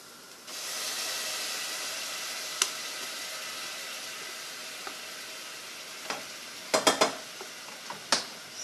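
Crème fraîche is stirred into mussels in a hot pan, a steady sizzling hiss broken by a few sharp clinks of utensil against the pan, clustered near the end.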